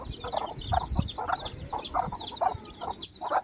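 Several native country chickens cluck in a steady run of short, repeated bursts, close and fairly loud against a soft low rumble, with no talking.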